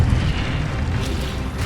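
In the Hogwarts Legacy video game, a cast Incendio fire spell gives off a dense, roaring burst of flame that is loud and sustained, like a rushing blast, with no voices over it.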